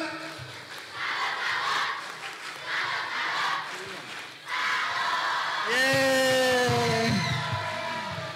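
A large crowd shouting in rhythmic bursts, then a loud sustained collective cheer with drawn-out voices, a chanted group salute in a hall at a National Children's Day event in East Java, Indonesia.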